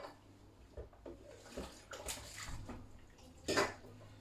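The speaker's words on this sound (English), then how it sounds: "just going to have to bear with me while I wash up." Tap water running into a kitchen sink while washing up after cooking chicken jalfrezi, quiet splashing with a few louder gushes and clinks, no talk.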